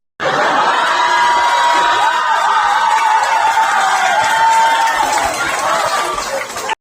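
A large crowd cheers and shouts loudly and continuously for several seconds, a dense wall of whoops and excited voices with a brief tail-off at the end.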